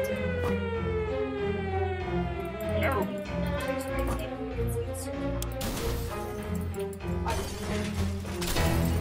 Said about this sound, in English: the air raid sirens going off